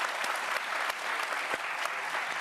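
Studio audience applause on a daytime talk show, a steady dense wash of clapping that stays loud and even throughout, with scattered sharper individual claps and no talking over it.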